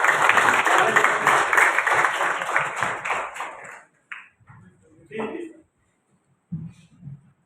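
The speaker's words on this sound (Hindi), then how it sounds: "आप जोरदार तालियों से" An audience at a Maharana Pratap birth-anniversary event bursts into loud, dense applause. It thins out after a few seconds and stops, then someone speaks briefly in the near silence.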